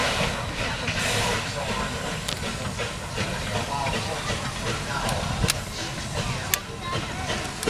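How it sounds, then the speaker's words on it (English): A passing train rumbles with broadband roar and hiss at a historic village during a Civil War cavalry reenactment, with occasional clicks and faint voices in the background; the noise stays steady and fairly close throughout. "Just waiting for the train to pass."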